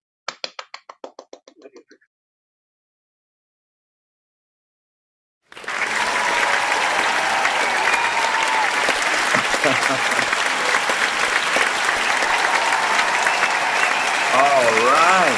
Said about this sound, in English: Let's bring on the applause video.